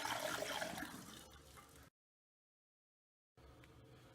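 Water rushes into a brewing vessel for an Irish stout, a loud, close gushing that gradually eases, then cuts to silence before a quieter flow resumes.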